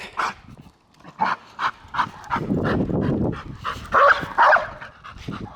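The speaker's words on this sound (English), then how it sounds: "It's one of the houses she barks at." A pit bull on a neighbourhood walk barks repeatedly at a house, a string of close, sharp barks in an irregular rhythm with panting in between.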